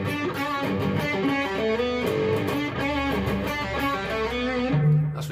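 Distorted electric guitar played through a TC Electronic Quintessence harmony pedal switched off, a single heavy melodic line with sustained notes and a low note ringing at the end.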